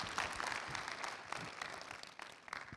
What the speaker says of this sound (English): If you liked it, one clap.